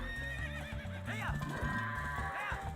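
Epona, the horse in the Twilight Princess video game, whinnies several times with rising and falling neighs over rhythmic clip-clop hoofbeats and a low game background hum.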